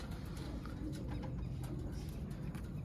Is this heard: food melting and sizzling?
no